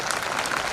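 Audience applause at a political speech in a hall, a brief steady wash of many hands clapping at moderate volume.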